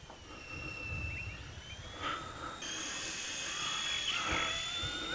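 An XK WLtoys K127 radio-controlled helicopter flies in a large open space on a windy day, its thin high-pitched rotor and motor whine wavering and rising in pitch over wind noise, fairly distant.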